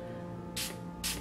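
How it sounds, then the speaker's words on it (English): An e.l.f. Makeup Mist & Setting Spray bottle is pumped onto a makeup brush, giving two short hissing bursts about half a second apart over a steady background hum. "I'm going to spray my brush."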